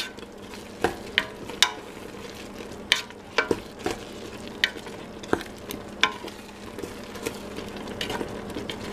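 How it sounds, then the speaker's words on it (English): Apple sauce with cinnamon cooking in a pot over low heat, a soft bubbling sizzle broken by regular scraping and knocking as it is stirred, close and unhurried, without talk. "And they just put the temperature in low, let it simmer."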